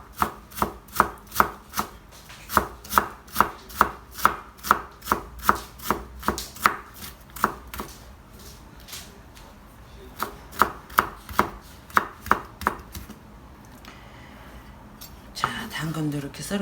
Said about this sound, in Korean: 당근도 이렇게 썰어 놓고